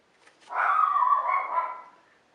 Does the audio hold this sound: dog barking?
yes